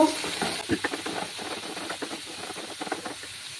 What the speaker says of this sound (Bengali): মশলাগুলো ভালোভাবে কষিয়ে নেব